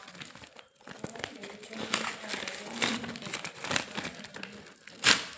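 Parcel packaging crinkling and rustling as it is opened, with irregular close crackles and a louder tear near the end, under occasional talk.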